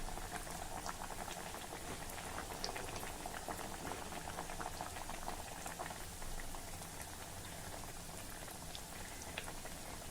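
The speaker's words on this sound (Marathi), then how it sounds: "तेल नीट गरम झालं की मध्यम आचेवर आपल्याला वड्या तळायच्या आहेत, म्हणजे छान कुरकुरीत होतील." Steamed vadi frying in hot oil over medium heat give off a steady bubbling, crackling patter that stays even and fairly quiet throughout, with no voices.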